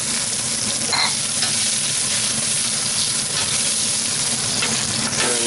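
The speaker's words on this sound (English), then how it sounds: "Toss in your chili." Chili tossed into hot oil for spicy potatoes sizzles loudly and steadily, a close, dense crackle with faint stirring taps and a background fan hum.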